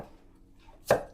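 A single knife chop through a carrot on a cutting board in a home kitchen, one close, sharp thud after a quiet moment.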